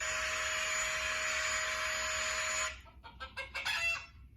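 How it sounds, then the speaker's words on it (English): A hen clucks in a few short, close bursts right after a long steady whir cuts off, with quiet gaps between the calls. "Chicken."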